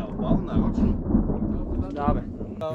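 Thunder from a thunderstorm rolls through as a low, rumbling boom lasting a couple of seconds during an outdoor fishing trip for perch and mullet, with people talking over it.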